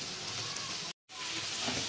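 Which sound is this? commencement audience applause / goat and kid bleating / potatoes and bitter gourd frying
potatoes and bitter gourd frying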